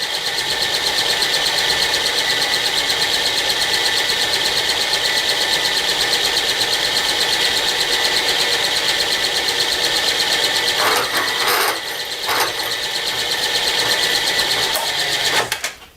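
A milling machine runs with a slitting saw cutting, giving a loud, steady mechanical whine and hum throughout, with a few brief clicks and bumps near the end and no talk.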